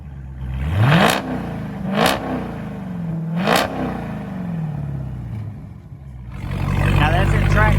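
A Dodge Challenger Scat Pack 392 with its mid muffler deleted and exhaust valves open in track mode revs loudly three times in quick succession, each blip rising and falling. The engine then settles into a rumbling idle before another surge of throttle.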